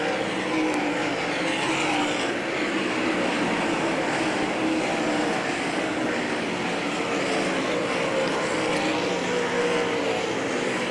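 Race cars running laps at Hagerstown Speedway, a continuous blended engine roar at a steady level, several cars heard at a moderate distance with no talk over the noise.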